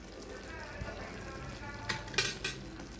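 Fried slices are stirred through sugar syrup in a pan, with steady soft sizzling, a low bubbling bed, and a few sharp spoon scrapes and clinks against the metal near the end, close and without talk.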